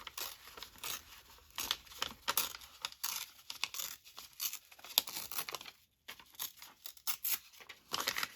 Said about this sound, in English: I'm just gonna rip it like this